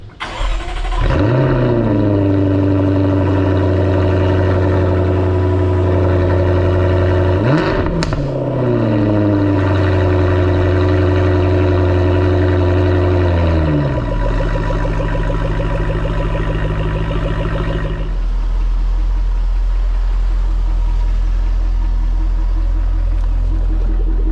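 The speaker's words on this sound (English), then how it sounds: "The exhaust note is ferocious." A powerful 550-horsepower V8 engine of a Jaguar F-Type R fires up and revs with a deep, ferocious exhaust rumble, then settles into a loud, steady idle close by.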